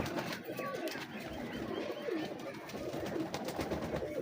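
High-flyer pigeons coo and call at a loft, with dense overlapping bird sounds over a steady background and faint voices nearby.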